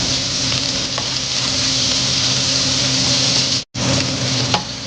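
Garlic and onion fry in a hot pan for pineapple chicken afritada, a loud continuous sizzle with a faint tick or two and a sudden brief dropout before the hiss resumes.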